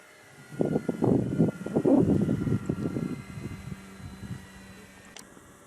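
An RC model Cessna airplane flies overhead at full throttle, its small engine buzzing up from a distance, swelling for a few seconds and then fading away again.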